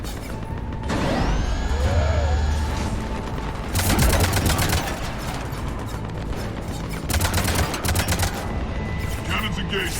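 Cannons blasting in Mass Effect 3 Legendary Edition: loud, rapid volleys of heavy gunfire-like bursts in several clusters, layered over mechanical clanking and whirring sci-fi battle noise.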